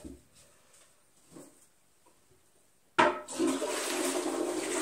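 After a few quiet clicks and handling noises, a toilet flushes with a sudden loud rush of water that keeps pouring steadily.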